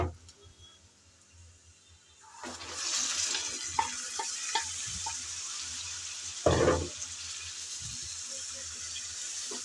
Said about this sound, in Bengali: এখন যে মাংস আমি ম্যারিনেট করে রেখেছিলাম দই দিয়ে, সেগুলো দিয়ে দেব